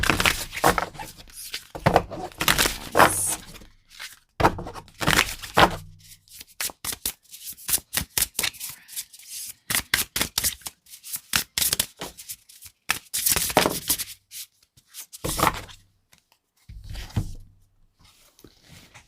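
Tarot cards are shuffled and pulled by hand at close range. Bursts of rapid riffling and papery slaps come in uneven clusters, separated by brief pauses and soft handling sounds.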